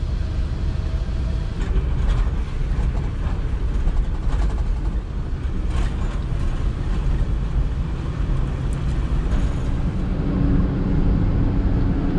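A 1978 Ford F100 pickup fitted with Holley Sniper EFI, after sitting parked for years, drives along with a steady, broadband engine and road rumble that stays continuous and fairly loud throughout, with no voices over it.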